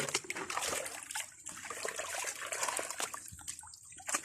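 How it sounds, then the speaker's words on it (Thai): Catfish being washed in water by hand, a faint, continuous splashing and trickling with small sloshes throughout, no speech. "ตอนนี้เขากำลังล้างปลาเนาะพี่น้อง"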